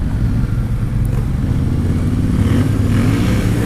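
Yamaha Ténéré 700 motorcycle ridden off-road on dirt, a steady loud engine drone with low rumble that swells slightly as it passes, no voices.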